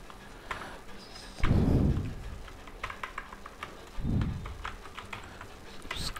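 Typing on a computer keyboard while entering simple HTML code in Notepad++, a steady run of close, light key clicks with a couple of heavier thumps, no talking.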